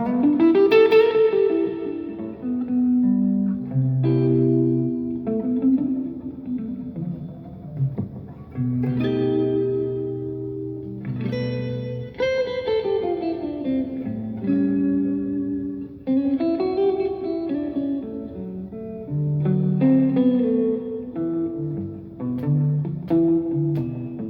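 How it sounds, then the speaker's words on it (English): A Variax modeling guitar set to a jazz box voice plays through an amplifier with reverb and a little delay, a clean melodic line of single notes and chords ringing out with echoing tails, alone with no talking. "Now this is it on a jazz box guitar with like reverb and a little bit of delay and an amplifier."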